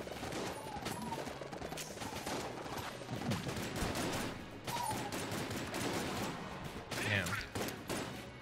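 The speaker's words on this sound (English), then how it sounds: "Pox Cannon has a surprising amount of knockback because it's based on the T-shirt cannon gun" The Pox Cannon, a T-shirt-cannon-style gun in Enter the Gungeon, fires rapid, bursty shots over busy game noise, and a voice briefly exclaims partway through.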